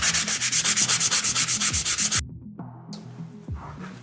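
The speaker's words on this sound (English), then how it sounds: "I'll have to sand that scratch a little harder." Hand sanding of cedar softwood chairs, a fast run of rhythmic back-and-forth scratchy strokes close up, then a pause and a few slower, softer rubs.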